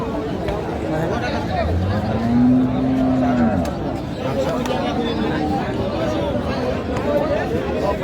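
Beef cattle at a busy livestock market, with one clear, close moo rising and falling over a constant murmur of crowd chatter and people talking nearby.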